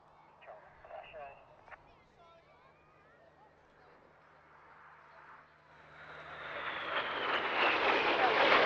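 Red Arrows display jets perform at the RAF Cosford air show. A distant roar builds from faint to loud as they approach, after a stretch of narration.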